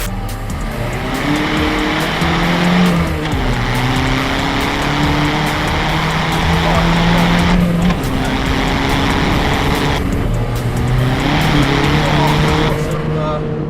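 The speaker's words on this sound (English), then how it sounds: "She's got some wheel spin going on." A VW Polo PD130 diesel with a big turbo spins its wheels under hard acceleration, the loud engine note climbing and dropping through gear changes with a little tyre squeal, heard from inside the car with voices talking over it.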